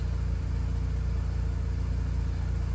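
Audi B9 S4 engine idling, a steady low rumbling drone with an even pulsing throb, close and constant throughout without talk.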